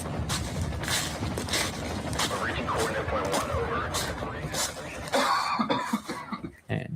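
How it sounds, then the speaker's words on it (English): A man coughs repeatedly in short, harsh bursts, close by, with some throat clearing between the coughs. "we can hear the doctor coughing"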